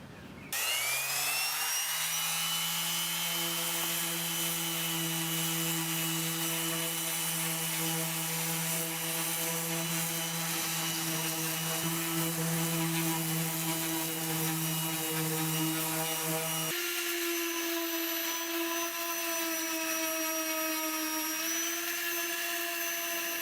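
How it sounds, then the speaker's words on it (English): An orbital sander with 80 grit sandpaper rough-sands body filler on a rusted car panel. Its steady, loud whirring drone holds throughout and shifts to a higher, lighter tone partway through, with no talking. "I'm gonna use this orbital sander for rough sanding with 80 grit sandpaper"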